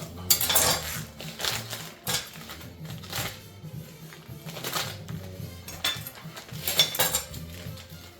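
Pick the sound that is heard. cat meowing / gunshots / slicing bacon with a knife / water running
slicing bacon with a knife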